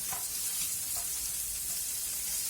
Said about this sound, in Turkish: Diğerlerini de kızartacağız.